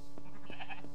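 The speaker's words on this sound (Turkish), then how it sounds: "Bir mö geldi." A cow moos in the horror video game The Anomaly Project. It is a short, loud, close, bleat-like cry with a tonal rising wail, heard alone.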